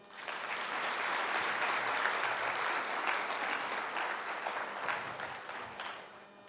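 A large audience at a graduation ceremony for newly certified coaches claps steadily, a dense wash of applause that holds for several seconds at full strength and eases slightly toward the end.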